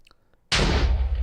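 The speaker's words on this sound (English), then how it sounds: "let's explode another TNT minecart" A TNT minecart explodes in the Minecraft 1.14 game, one sudden loud blast after a quiet half second, followed by a dense rumbling roar that carries on to the end.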